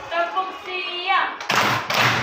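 A class of young children in a primary school classroom clapping game: after the teacher speaks, two sharp, loud group claps ring out about half a second apart.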